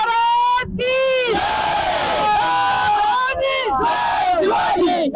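A large crowd of young people at a Shivaji Maharaj celebration in Maharashtra, chanting and cheering Jai Shivaji in loud, rising rhythmic shouts that swell and overlap, close and energetic throughout.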